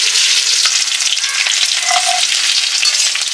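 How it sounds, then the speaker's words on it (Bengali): Chopped onions sizzle steadily in hot mustard oil with a bay leaf and a dried chilli, giving a loud, continuous, close frying hiss with faint stirring sounds and no talk. "সুন্দর পেঁয়াজটা একটু ভাজি ভাজি হয়ে গেছে"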